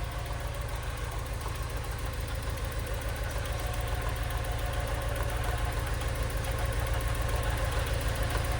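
A Porsche 944 engine idling up close, giving a steady, rapid mechanical clatter of cylinder noise over a low rumbling hum that continues evenly throughout with no talking.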